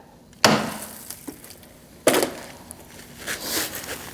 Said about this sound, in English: you're going to want to get your screwdriver in there and just give it a quick tap